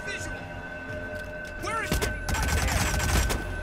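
Rapid gunfire from Hitman (2016, PC) crackles through a busy game mix, with scattered shots that build into a denser burst toward the end over background sound and music.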